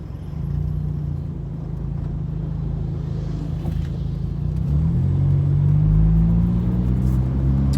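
Heavy road traffic with many cars in Dubai at iftar time, heard as a steady, loud low rumble of engines and tyres that swells slightly toward the end, without speech.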